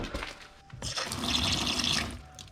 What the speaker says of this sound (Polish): Woda tutaj działa.